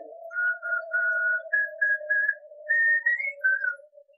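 Someone whistles a slow, wavering tune with short separate phrases, clear and close, with a steady low tone droning underneath.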